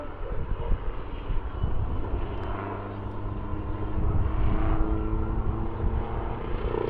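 Steady rotor and engine drone of a nearby helicopter at an air show, broadband and continuous, swelling slightly in the second half as it does a pedal turn in place.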